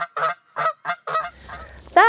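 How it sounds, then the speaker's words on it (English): A single loud Canada goose honk rings out at the end, following a few short voice-like bursts and a soft rustle. "the Canada goose says,"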